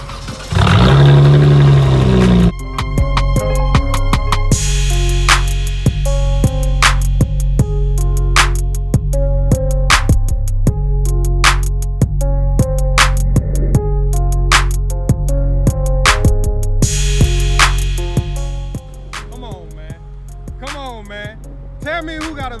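A Dodge Challenger in a Houston parking lot plays a stream of tonal, musical engine-like notes, loud and close: a short roaring burst at first, then a long run of stepped pitches and sharp blips before a final rising flourish.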